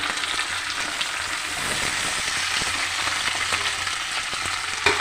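Potato pieces and curry leaves fry steadily in a pan, giving a dense, continuous sizzle with faint scraping from stirring, close and fairly loud, with no talking.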